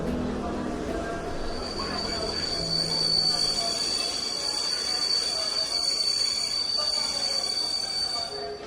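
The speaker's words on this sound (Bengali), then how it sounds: "ট্রেন দিঘল স্টেশন পৌঁছতে প্রায় সন্ধে হয়ে যায়।" Train wheels squeal at a high, steady pitch as a railway train rolls into a station, with rumbling carriages beneath, a continuous loud sound effect lasting throughout.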